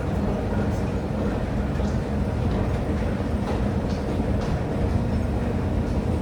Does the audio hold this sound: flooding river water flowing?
no